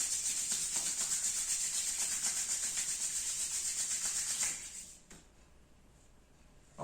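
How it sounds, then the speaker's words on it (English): Two palms rubbed briskly together during a yoga breathing session, a steady close swishing friction for about four and a half seconds that then stops, leaving a quiet room. "Relax, rub both the palms,"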